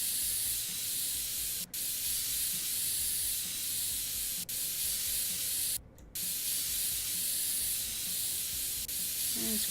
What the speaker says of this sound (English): Let's use some compressed air.